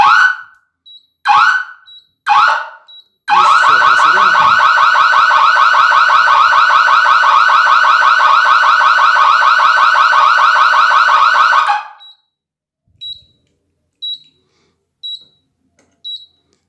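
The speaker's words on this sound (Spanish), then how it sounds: "el energizador observa la discontinuidad, espera 3 pulsos y genera el sonido" An electric fence energizer alarm sounds after a line is cut: a few short beeps, then a loud continuous electronic wail for about eight seconds, followed by spaced faint chirps.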